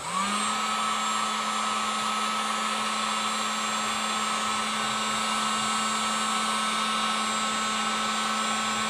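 A heat gun blows hot air while a turbo boost reference adapter is fitted on a 2017 Ford Focus RS, a loud steady whooshing hum that runs unbroken with no talk.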